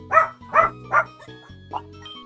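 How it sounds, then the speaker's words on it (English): Dog barking in a short series: four or five sharp barks spaced about half a second apart, fairly close and loud, with a faint steady hum underneath. "Okay, dogs."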